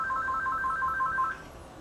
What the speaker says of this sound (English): Just let it ring for a little bit.